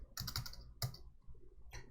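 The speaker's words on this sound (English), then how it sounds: "Typing is hard when y'all are watching" Quick bursts of keyboard typing, a few clustered keystrokes then a pause and another short burst, close and fairly quiet.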